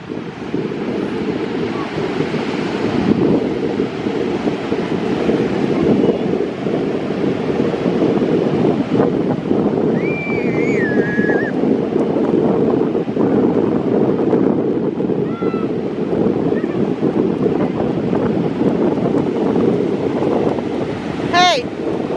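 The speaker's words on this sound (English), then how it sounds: "It's windy and cold now." Steady, heavy wind buffeting the microphone on a cold Australian beach alongside crashing surf, constant and loud throughout, with a brief high whistle near the end.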